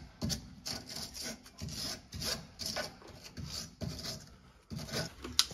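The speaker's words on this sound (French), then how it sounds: "On va venir passer un petit coup de brosse métallique." A wire brush scrubs back and forth over a car's steering ball joint in rapid, rasping strokes, close and steady, with no speech.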